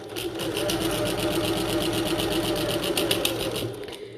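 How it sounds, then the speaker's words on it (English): A domestic sewing machine runs a long basting stitch on a bucket tote seam, its needle hammering in a fast, steady rhythm that stays close and even throughout, with no talking. "Then I'm increasing my stitch length to a basting stitch."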